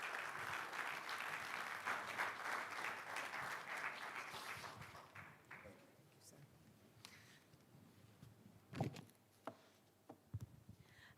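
Workshop audience at a Nigerian public sector reform event gives steady applause that fades after several seconds, leaving a few stray claps, shuffling and soft murmurs in a quiet hall.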